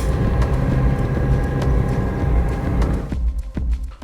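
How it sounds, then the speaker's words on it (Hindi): A vehicle grinds up a steep, narrow mountain road toward Hatu Peak in Himachal. Its engine drones loud and steady under heavy load, then drops off near the end, leaving quieter road noise. "मैं कोशिश करूंगा कि इंजन की साउंड से आपको समझा पाऊं कि चढ़ाई कितनी तीखी है।"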